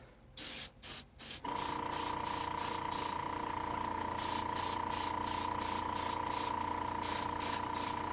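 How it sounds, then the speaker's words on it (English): Airbrush spraying paint, a steady close hiss that runs almost unbroken after a few short bursts, with a faint tonal hum beneath it and no talk. "this airbrush business is a heck of a lot faster than anything I've ever airbrushed, or regular brushed"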